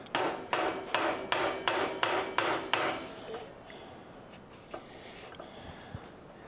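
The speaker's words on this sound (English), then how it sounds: "I'm going to get a very small dead blow hammer and give it a couple taps" Seven evenly spaced taps from a small dead blow hammer ring out sharply, freeing a stuck main drive bearing on a DeWalt DW708 sliding miter saw, then a few fainter scattered knocks against a quiet background.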